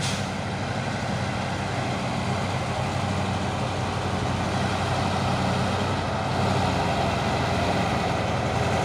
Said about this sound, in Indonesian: rame lagi truk-truk yang akan mau menanjak ini